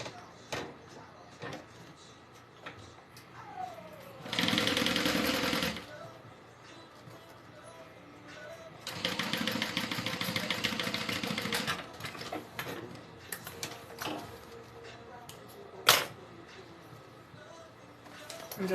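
Sewing machine stitching the tops of a Denver backpack together, running in two bursts of steady rapid whirring a few seconds long each, close, with quiet handling noises and pauses between.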